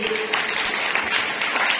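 A crowd at a parish Women's Day event claps briefly in a moderate, fairly dense patter, with some murmured voices mixed underneath.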